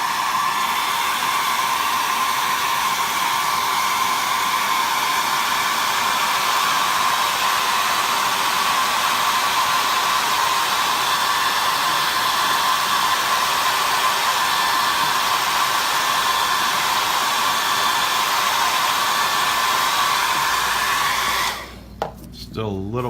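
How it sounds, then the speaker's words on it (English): A hair dryer blows steadily and loudly at close range while being used during homemade wine bottling, a continuous whirring rush for over twenty seconds before it cuts off near the end. "Now you're supposed to use a blow dryer."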